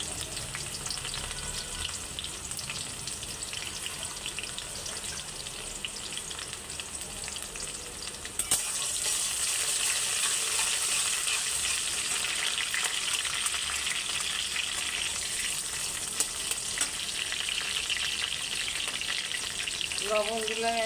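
Chopped onion frying in hot oil for a hilsa curry with poppy seed, a steady loud sizzle that jumps louder midway as the onion goes in, with occasional spoon scrapes and no talk.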